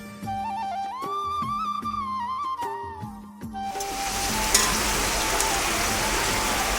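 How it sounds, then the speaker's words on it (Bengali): A heavy afternoon downpour hisses steadily and densely around a house. It sets in after a few seconds of music and then continues alone at an even, full level. "আরো এত মানে বৃষ্টি শুরু হয়ে গেছে"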